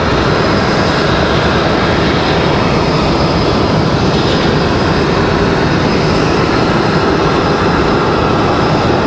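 JetBlue Airbus A220 jet taxiing up the hill at an airport, a dense, loud, constant engine rumble and roar that stays even for the whole stretch.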